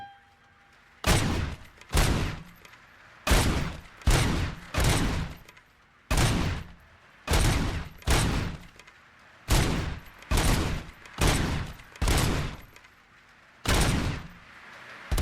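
Gunfire in the video game RoboCop: Rogue City: loud, evenly spaced single shots and short doubled bursts repeating steadily at close range, each separated by a short gap of quiet.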